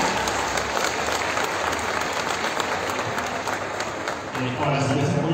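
Loud, continuous audience applause at a state government event handing out eyeglasses and assistive devices, a dense wash of clapping filling the whole stretch, with a voice emerging near the end.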